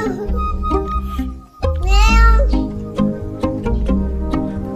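A cat meows in a home setting, with one drawn-out, rising meow standing out among shorter sounds and nearby clattering and background noise.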